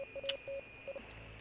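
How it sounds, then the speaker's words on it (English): Morse code signal crackling over a radio in the video game Oxenfree: a few short and long faint beeps at a steady pitch over a soft hiss, with a thin high tone running underneath. "We get some Morse code."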